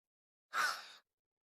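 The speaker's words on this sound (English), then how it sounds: "So, a slow breath in" A slow, audible breath drawn in during a guided breathing exercise on an outdoor walk, a single soft half-second inhale heard alone against silence.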